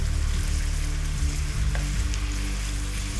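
Pieces of stew meat fry in a Portmeirion pan, a loud close steady sizzle with a low bubbling hum, no voices.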